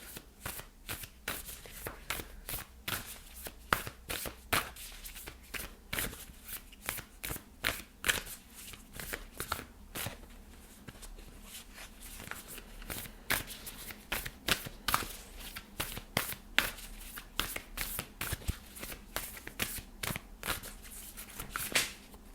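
Starseed Oracle cards are shuffled by hand, a long run of quick, sharp riffling and slapping bursts in an uneven rhythm, close and fairly quiet, with no talk.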